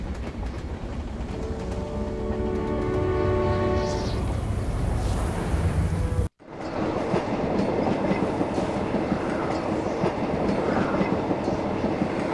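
A train from the Polar Express video game cutscene rolls along the rails with a continuous rumbling clatter and rhythmic clickety-clack, briefly cutting out midway before resuming at full, close volume.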